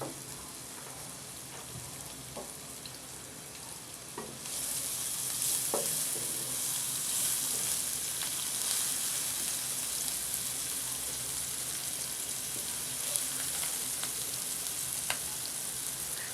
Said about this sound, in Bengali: পেঁয়াজ মরিচ একসাথে ঢেলে দেব। ঢেলে দেওয়ার পরে হালকা একটু নাড়িয়ে নেব এগুলো।